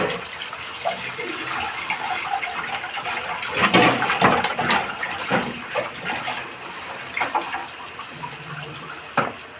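Yogurt whey water is poured into a pan while cooking a Bengali meat kosha curry, making a steady splashing, sizzling liquid pour that swells in the middle and then trails off, close and without talk.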